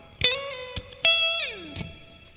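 A few bright, high-pitched electric guitar notes picked one after another high on the neck, ringing briefly with a slide downward at the end.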